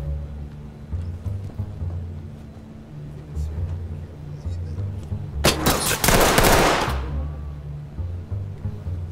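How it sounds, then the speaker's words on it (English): A burst of gunfire in SWAT 4, a loud rapid cluster of shots lasting about a second and a half, standing out sharply over a low rumbling background hum. "Shots."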